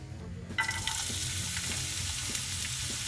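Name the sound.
onion frying in a pan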